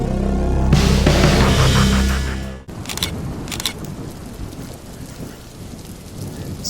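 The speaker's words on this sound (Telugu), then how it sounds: "వర్షం పడుతుంది." Rain pours down outdoors at a cooking spot during a heavy storm, starting as a loud, dense rumble, then settling into a steady hiss of falling drops with occasional sharp taps, with no talk.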